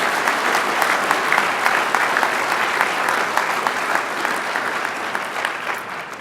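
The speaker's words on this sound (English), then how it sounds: "Let's please give another round of applause to all our Lifesavers Award winners." Sustained audience applause at an awards ceremony for state troopers and dispatchers, honoring Lifesavers Award winners. It is a dense, steady wash of many hands clapping and stays loud throughout.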